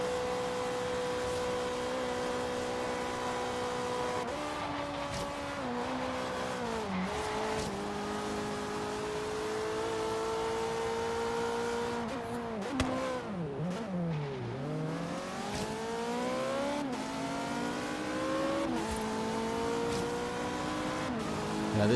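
An Ariel Atom race car engine in Forza Horizon 3 revving hard around a track, rising and falling through gear changes with a sharp drop and climb partway, loud and continuous with no talk.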